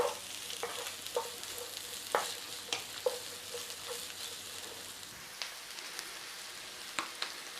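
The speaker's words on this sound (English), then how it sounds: "In your pan with a little bit of oil, it doesn't matter what you use. In there, garlic and onions." Garlic and onions fry in a little oil in a pan, a steady soft sizzle broken by sharp scraping stirs and clinks of a utensil against the pan at irregular intervals.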